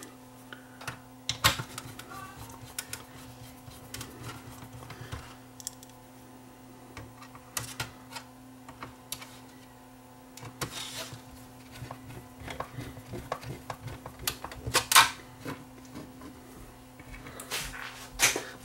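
Screws and plastic parts click and tap as a Panasonic PV-V4522 VCR is put back together by hand, with sparse irregular knocks and rattles over a low steady electrical hum, close and fairly quiet.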